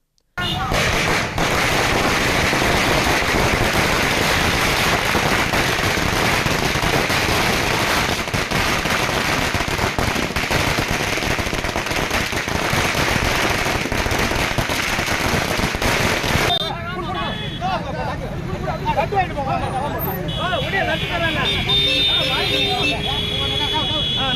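Firecrackers burst continuously at a street celebration of an election victory, a dense loud crackle of overlapping bangs that thins out in the last seconds.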